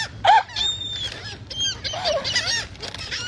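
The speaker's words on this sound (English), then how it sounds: "Look at all these seagulls." Seagulls being fed at Clearwater Beach give several short squawking calls close by, with wing flutter and outdoor bustle between the cries.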